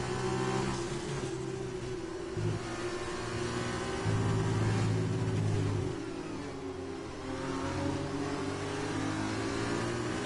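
Racing car engine at full throttle in F1 2020, a sustained loud mid-pitched drone that rises and falls with gear changes, heard close and alone without talk.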